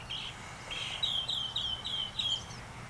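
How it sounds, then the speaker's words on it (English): A small bird chirps in a bird-friendly backyard in the morning, with a run of bright, quick repeated tweets at moderate distance over a steady outdoor background hum. "Here's another little bird over here."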